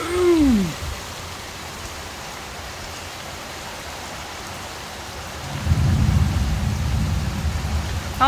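Heavy Florida rain pours down steadily in a dense hiss, swelling into a louder, deeper roar partway through, with a brief whistling tone at the very start.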